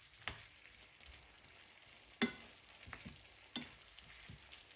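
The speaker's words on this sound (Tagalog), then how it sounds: "Ang ating stir-fry, zucchini, string beans at green peas." Zucchini, string beans and green peas stir-frying in a pan, a soft continuous sizzle broken by a few sharp clatters of a utensil scraping and stirring, no voices.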